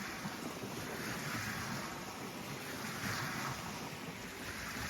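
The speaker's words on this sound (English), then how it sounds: "as I'm listening to the water splash on the shore and it's loud" Continuous rushing wash of water and wind, steady and fairly loud throughout, like waves breaking on a nearby shore with no clear pauses between waves.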